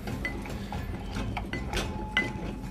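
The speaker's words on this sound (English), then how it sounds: "I use a muddler, but you can use anything possibly to crush the watermelon" A wooden-style muddler pressing and crushing watermelon chunks inside a cocktail shaker for a watermelon caipirinha, giving irregular wet squishes and soft knocks against the shaker, close and alone.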